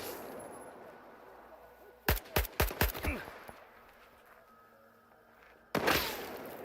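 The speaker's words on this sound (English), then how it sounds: "Where's he shooting from?" Enemy gunfire in S.T.A.L.K.E.R. 2: a quick burst of four or five sharp shots, then a lone louder crack a few seconds later, standing out over quiet ambient background.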